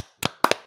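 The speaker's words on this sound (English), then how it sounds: "Big fat claps to you, lovely." A few sharp hand claps, three or four quick bursts spaced unevenly, close and clear over near silence.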